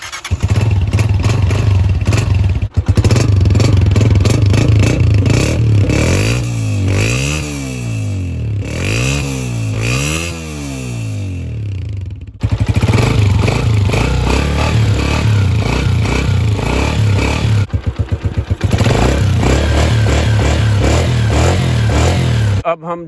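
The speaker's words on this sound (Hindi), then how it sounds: "सबसे पहले गोल्ड एडिशन जो 125 है इसका साउंड चेक करते हैं।" A Honda 125 Gold Edition motorcycle from 2024 starts up and idles with a loud, close, steady engine, then revs in rising and falling bursts before settling back to a steady run.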